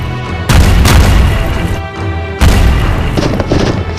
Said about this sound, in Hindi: रूस की तोपें गरज रही हैं।